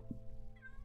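A cat in a video game gives a single short, faint meow, brief and partly buried under steady background game music.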